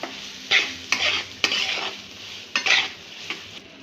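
A spoon stirs cashews, almonds and charoli through semolina roasting in ghee in a pan, producing close, rhythmic scraping strokes about once a second over a soft, steady sizzle.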